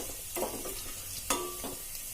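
Garlic sizzling softly in a pan with steady frying hiss, broken by a few brief stirring scrapes, faint and even with no voices.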